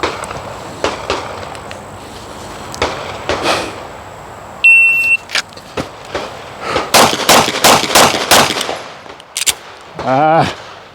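Gunshots ring out during a shooting drill at a firing range: loud, sharp cracks, sparse at first, then a quick run of evenly spaced shots, with a shot-timer beep near the start and brief talk at the end.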